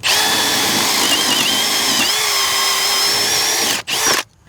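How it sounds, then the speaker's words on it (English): A power drill whines loudly and steadily for several seconds close up, pitch wavering slightly under load, then cuts out with a brief stutter. "I'm gonna drill a hole right here"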